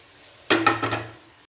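Shallots, garlic and ginger frying in a pan for a Kerala wild lemon curry: after a quiet start, a short burst of stirring and sizzling lasts about a second, then cuts off.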